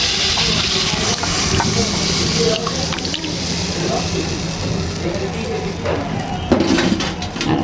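Spiced marinade mixed with water is poured over raw fish heads in a home kitchen and stirred by hand, giving a steady, close, wet sloshing and squelching that runs throughout with a few sharper splashes near the end.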